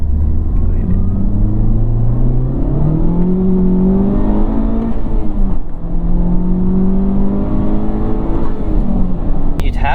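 A Honda Civic Type R FL5 with a Stage 2 Hondata tune accelerates hard in second gear, engine note climbing steadily in pitch with a brief shift-like dip mid-run, loud and close from inside the cabin over road rumble.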